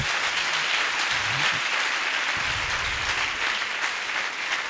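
A church congregation bursts into sustained applause during a sermon, a dense, steady wash of many clapping hands that fills the room at a constant, fairly loud level from start to finish.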